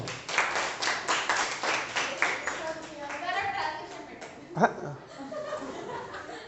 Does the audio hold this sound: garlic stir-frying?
no